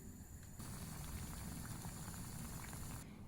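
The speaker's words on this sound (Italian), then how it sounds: "L'acqua bolle, possiamo tuffare le scorzette." A pot of water with orange peels simmers in a soft, steady bubbling hiss, faint and close, with no talk.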